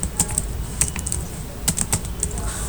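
Linux commands are typed on a computer keyboard as quick, uneven bursts of close key clicks over a faint background hum, with pauses between taps.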